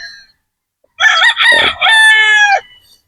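A muff gamefowl rooster at a game farm in Batangas crows loudly and close, one long strident cock-a-doodle-doo of about one and a half seconds, preceded by a faint distant crow.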